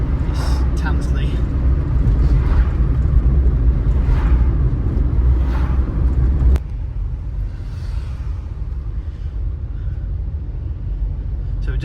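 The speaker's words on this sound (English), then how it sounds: "You do get this traffic that can be a bit annoying" Road traffic passes along a road in Matlock in the Derwent Valley: a continuous low engine and tyre rumble, louder for the first several seconds, then easing to a steadier, quieter drone.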